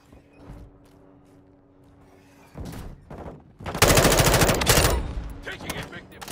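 Automatic gunfire in the Call of Duty: Modern Warfare II video game: a loud, dense burst of rapid shots in the back half, after quieter game ambience with a few scattered clicks and thumps.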